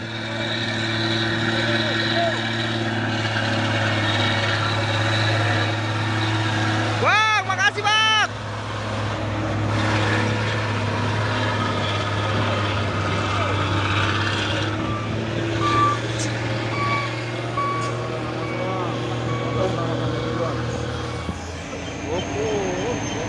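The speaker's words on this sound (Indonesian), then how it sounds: "konvoy pasukan truk Isuzu ELF 5 unit ya" A convoy of Isuzu ELF trucks rumbles past in a steady low drone with engine noise swelling and fading, a voice briefly heard over the traffic.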